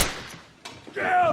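A single-bullet gunshot from a film scene: a sharp, loud crack at the start, a second shorter burst midway, then a raised voice over a noisy background.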